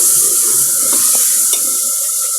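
Masala sizzles steadily in a hot pan for the potato and egg curry, with a few soft scraping stirs clicking through the continuous frying hiss, close and fairly loud.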